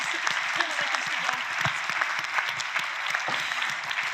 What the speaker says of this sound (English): now we're clapping because it's like 8 seconds left